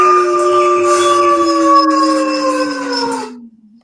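A person imitates a wolf howl, a single long, loud, sustained wavering cry with steady harmonics that slowly falls in pitch and fades out, heard alone with no other talk.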